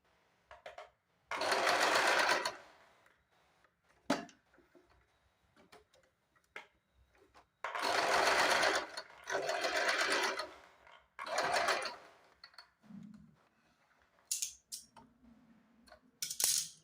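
A sewing machine stitches a lined blouse in several separate bursts of rapid running, with quiet pauses and light clicks and handling noises between runs.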